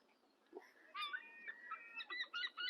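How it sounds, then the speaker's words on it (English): Seagulls at Oban in September let out harsh, honking calls in short bursts, several cries in quick succession over a quiet background, fairly close. "Listen to the seagulls."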